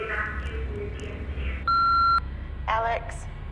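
An answering machine gives a single loud, steady electronic beep lasting about half a second, cutting through a room's background murmur, followed by another brief tonal burst.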